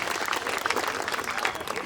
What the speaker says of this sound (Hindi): एक बार जोरदार तालियां बजाओ।